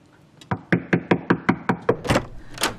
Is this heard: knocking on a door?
yes